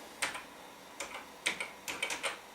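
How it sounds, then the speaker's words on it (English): Quick bursts of keystrokes on a computer keyboard typing into a terminal, about seven light clicking taps in irregular clusters, close and quiet, with no talking. "So let's type anything."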